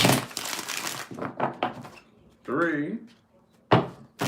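Tarot cards being shuffled in several quick riffled bursts, heard alongside a voice counting aloud.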